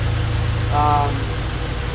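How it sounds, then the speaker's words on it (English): A rebuilt Honda Civic D16Y8 engine idles steadily after its first start, a constant close rumble with a brief higher whine rising over it partway through. "Now that the engine has ran a little bit, it's got heated up"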